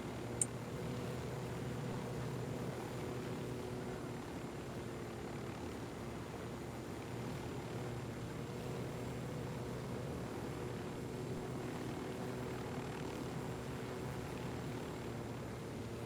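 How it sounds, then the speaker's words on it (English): A helicopter drones in a video game, a faint, steady, distant rotor and engine rumble that holds even for the whole stretch with no other sounds over it. "You know, the helo is back again."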